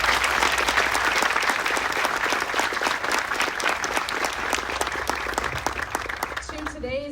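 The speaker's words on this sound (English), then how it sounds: "A round of applause for them." A graduation ceremony crowd for family medicine residents and sports medicine fellows gives loud, sustained applause with individual claps standing out, tapering off as the sound cuts away at the end.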